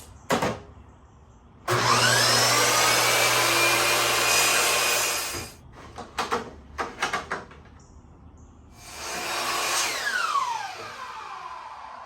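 Power saw cutting a 45-degree miter in a length of wood trim during a motorhome interior refit, with a loud sustained cut of about four seconds, several short bursts, then a second cut that winds down.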